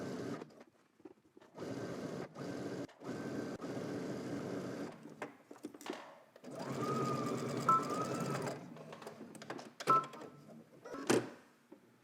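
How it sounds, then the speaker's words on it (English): A sewing machine stitches a 5/8-inch seam straight across layered fabric, its motor whirring in several short bursts and one longer steady run, with pauses between and brief handling noises near the end. "let's just head to the machine and we're going to stitch all the way across using 5/8 of an inch seam"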